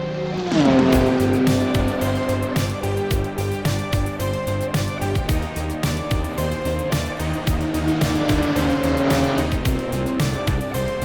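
A Lotus racing car engine roars loudly and continuously, pitch rising and falling through gear changes as it drives hard around a track.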